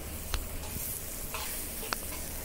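Romaine lettuce stir-fried in a hot wok over high heat gives a continuous sizzle, with a few sharp clicks and scrapes of the spatula against the metal, close and clear.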